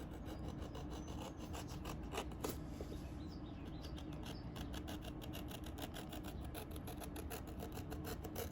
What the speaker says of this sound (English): now we sand the rest here